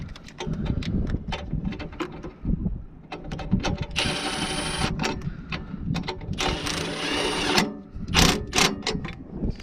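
A Milwaukee cordless impact tool fires in two loud, harsh bursts, each about a second long, between scattered clanks and knocks of work nearby.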